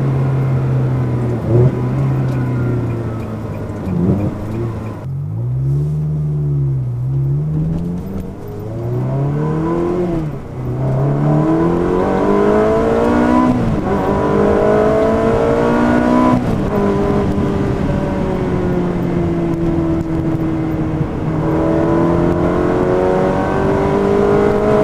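A Ferrari 360 Challenge Stradale with a reprogrammed F1 gearbox revs loudly up close, its engine note climbing and falling in several sharp throttle blips over a steady idle.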